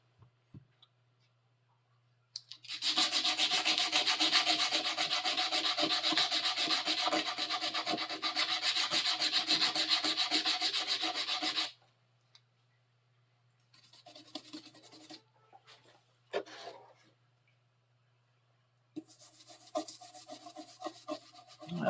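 Old steel hand files sanded along their flats: a loud, continuous close rasping rub for about nine seconds, then quieter intermittent scraping strokes, over a steady low electrical hum.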